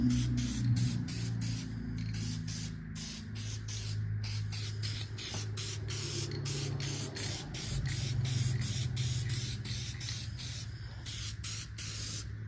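Spray gun bursts paint the parts of a modified 351 engine in rapid, closely spaced hissing pulses of even loudness. A low mechanical hum, likely from the compressor, runs steadily underneath, and no talk is heard.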